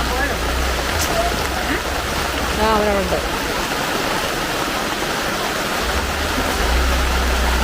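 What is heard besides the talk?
sudden heavy rain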